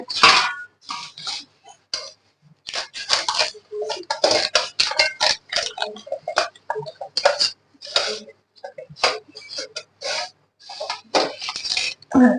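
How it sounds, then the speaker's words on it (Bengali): A plate and dish clinking and knocking as a steamed dish of taro stolon with coconut and shrimp in banana leaves is flipped over, a string of sharp, close ticks and clatters coming in irregular bursts. "এবার আমি একটা থালার সাহায্যে এটা নিয়ে আবার উল্টিয়ে দেব"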